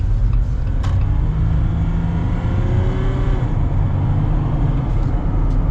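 Jeep Gladiator Rubicon EcoDiesel pickup accelerating, a loud continuous low diesel rumble with a rising tone, heard steadily from inside the cab.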